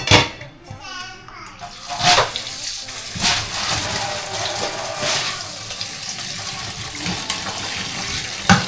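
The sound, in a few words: water tap running to wash bamboo shoots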